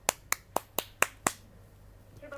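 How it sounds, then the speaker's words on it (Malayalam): A single person claps six times, slowly and evenly, each crisp clap standing alone close by, followed by a short stretch of quiet room tone. "ഞാൻ കൈയടിക്കുന്നു"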